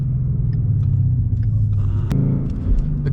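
A 2016 Ford Mustang GT's engine rumbles low and fairly loud from inside the car during a ride, a deep steady drone with brief thumps and no talk.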